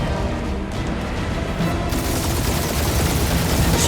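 Sustained, dense gunfire in the Guardians of the Galaxy video game, a loud continuous barrage of rapid shots and blasts that intensifies midway and never lets up.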